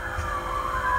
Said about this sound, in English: You can obviously hear the sirens going off in the back.